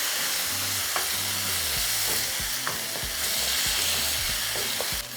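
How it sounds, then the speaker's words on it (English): Tomato sauce being stirred into frying rice in a pan, with a steady sizzle and hiss throughout and repeated scraping strokes of the spoon at a close, even pace. "Mix it with the rice."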